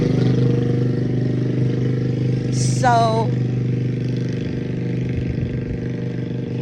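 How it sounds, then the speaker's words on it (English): A loud motorcycle rumbles past with a steady, droning engine note that holds throughout, while a person talks over it. "We're gonna let this loud motorcycle go by."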